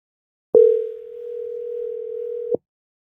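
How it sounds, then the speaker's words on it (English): An unanswered phone call rings out as a single steady electronic ringback tone lasting about two seconds, clear and alone against silence. "Why does no one want to answer the phone tonight?"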